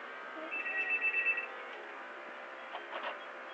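A telephone rings indoors, a soft electronic trill repeating in short bursts around the first second and a half, then fainter faint chirps later, with no talk over it.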